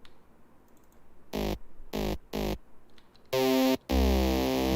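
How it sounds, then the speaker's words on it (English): A synthesized hammer sound from an electronic music mix hits in loud, short, punchy bursts: three quick strikes, then a longer, heavier pair that ends with a booming low tail. "It's again a hammer sound."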